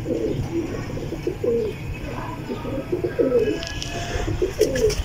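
Ferozpuri pigeons coo in a repeated run of soft, throaty calls, fairly close and steady over a low background rumble, with faint chirps mixed in.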